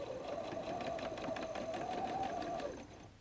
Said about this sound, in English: I'm beginning to sew the seam now.